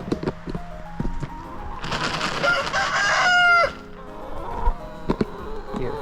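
Chickens cluck in a yard while a rooster lets out one loud, drawn-out crow, with a few sharp knocks and scuffles before and after the call.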